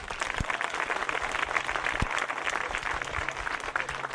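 Steady applause from an audience at a scholarship reception honoring Dr. Martin Luther King Jr., dense clapping that holds at an even level throughout, filling the room without any speech.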